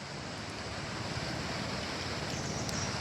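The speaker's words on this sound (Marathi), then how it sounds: "घोड नदी पात्र दुथडी भरून वाहत आहे।" Flooded Ghod river at Kalamb running bank to bank, a steady broadband rush of fast water with wind buffeting, continuous and even throughout, no voices.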